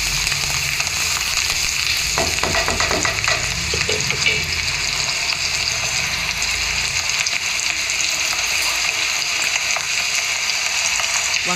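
Whole brinjals fry in plenty of hot oil for a stuffed brinjal curry, a loud steady sizzle filling the whole stretch, with brief clatter of the eggplants being placed and moved early on.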